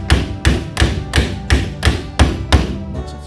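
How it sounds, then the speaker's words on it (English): A hammer drives a wheel lock ring onto the axle of a twin-shelf outdoor utility cart, giving eight evenly spaced, solid thuds about a third of a second apart, close and with nobody talking. "It takes a little bit of hammering."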